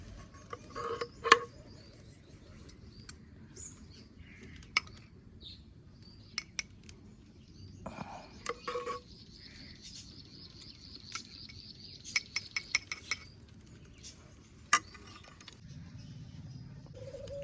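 Scattered clinks and metallic taps of utensils, pots and dishes ring out as kheer is served into bowls, sparse and fairly quiet, with faint birdsong and background noise between them.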